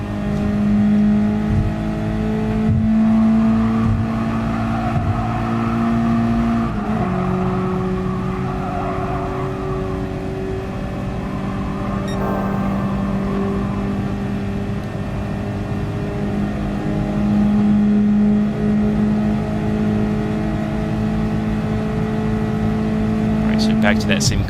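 Race car engines in the video game GT Sport drone steadily and loudly throughout, with sustained engine tones that shift pitch as cars accelerate and change gear, plus brief tyre or skid noises.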